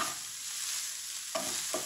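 Onions softening in a pan for a keema kachori filling, a soft continuous sizzle with two brief stirring scrapes near the end.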